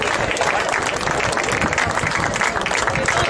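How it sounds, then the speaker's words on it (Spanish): Steady crowd applause at a handball trophy presentation ceremony in Moaña, dense continuous clapping from a large audience filling the whole stretch without talk over it. "Un aplauso para eles."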